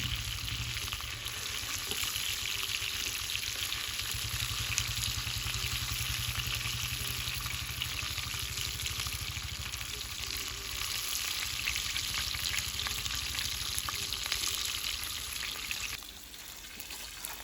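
Fish frying in oil for a crispy village-style fish fry makes a dense, steady sizzle close by for about sixteen seconds, then eases off slightly at the end.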